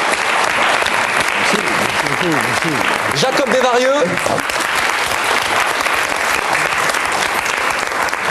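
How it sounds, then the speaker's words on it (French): Audience applause fills the room, loud and continuous clapping that holds steady throughout, while a voice speaks briefly over it. "Je vous demande d'applaudir Monsieur Guy Bedos."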